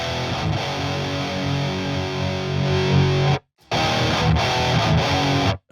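High-gain electric guitar through a Toneforge Jeff Loomis amp plugin, dense distorted chugging riffs played without a break for over three seconds, then a brief silent gap and another burst cut off sharply.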